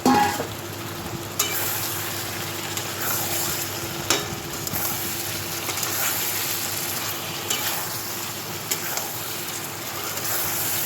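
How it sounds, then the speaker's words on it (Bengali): Fried potatoes are stir-fried in a spice masala for a potato and potol curry, with a steady sizzle and a spatula scraping and tapping against the pan at irregular intervals. "ভালো করে এটাকে পুরোটাকে নাড়িয়ে চাড়িয়ে ভালোভাবে কষে নেব।"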